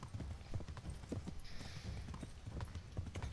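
Horse hooves clip-clop at a steady walking rhythm in the medieval video game Kingdom Come: Deliverance, quiet and continuous across the whole stretch with no voices.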